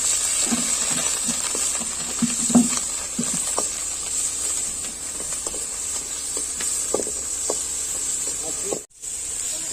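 Seven to eight chopped onions frying in leftover oil for a Chhattisgarh-style lemon chicken, giving a bright continuous sizzle with scattered stirring knocks from a spoon close by, and no talk.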